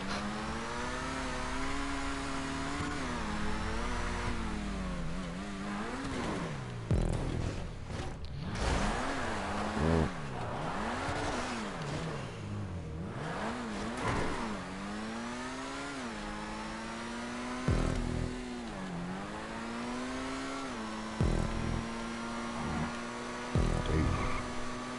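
A car engine in GTA 5 revs and whines through repeated rises and falls in pitch as it accelerates and eases off, steady and close, with faint talk now and then.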